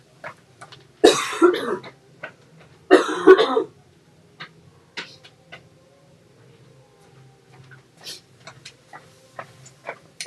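A few harsh coughs burst out close by at a crafting table, two strong fits followed by sparse soft clicks and small taps in a quiet room.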